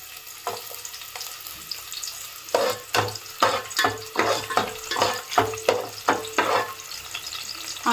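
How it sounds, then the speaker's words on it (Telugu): Onions frying in hot oil for an Andhra-style chicken dum biryani, a steady sizzle broken by a series of rhythmic scraping stirs, close and fairly loud with no voices. "ఇప్పుడు ఇదే ఆయిల్లోకి ఆనియన్స్ వేపుకుందామండి దోరగా"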